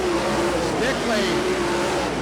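Dirt track race cars at Bedford Speedway roar as a group down the backstretch, engines droning with shifting pitch at a distance, under steady commentary.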